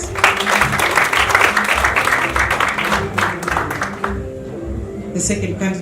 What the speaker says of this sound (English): A round of applause for Mwamu, please.